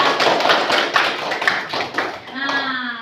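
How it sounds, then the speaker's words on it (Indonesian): A small group applauds a child named Raka at a drawing-contest event, a burst of quick overlapping handclaps lasting about two seconds before fading into a brief voice. "Oke, tepuk tangan buat Raka."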